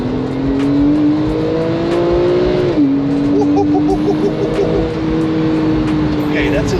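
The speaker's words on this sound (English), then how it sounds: "whenever you get up into the high revs in this car, it goes crazy" A Porsche 997.2 Carrera S engine revs high and steady in sport mode, its pitch climbing, dropping sharply, then holding a strained whine, loud and close, with voices faintly underneath.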